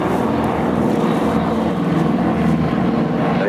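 A Breitling wingwalking propeller aircraft makes a pass at the Farnborough Airshow 2012, its engine drone loud and steady throughout.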